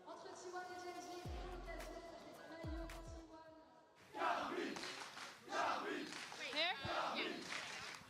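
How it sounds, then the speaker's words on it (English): KC esports fans crowd together before the Esports World Cup grand finals, cheering and shouting in loud bursts that swell and fade, with a quieter stretch of low rumbling and voices before the crowd noise rises. "The fans are already out en masse cheering for the teams"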